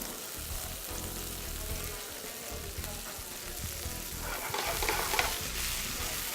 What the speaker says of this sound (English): Give them a toss